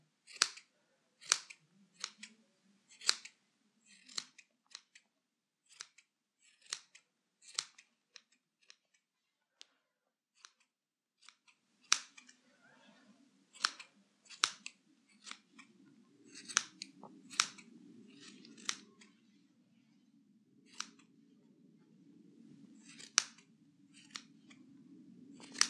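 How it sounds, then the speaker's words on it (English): Sharp scissors snip a fluffy yarn pom-pom for a knitted hat in a steady series of close, crisp clicks, with a soft rustle of trimmed yarn between some cuts; no one speaks. "And then you can give it a trim."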